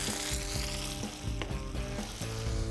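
Onions sizzle on a flat griddle grill ahead of blackened flank steak, a loud close crackling hiss with rhythmic scraping strokes from a spatula.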